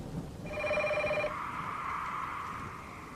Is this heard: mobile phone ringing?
yes